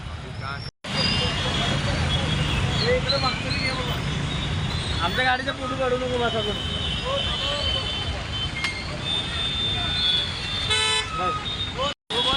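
Heavy traffic jam in front of a civil hospital and court, with repeated car and bus horn toots over a dense, continuous roar of idling and crawling vehicles, while people talk close by.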